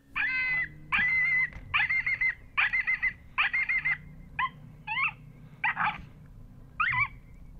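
An electronic predator call plays coyote pup distress sounds outdoors at dusk in Kansas, a series of about nine high, yelping whimpers in quick succession, clear and fairly loud against a quiet background.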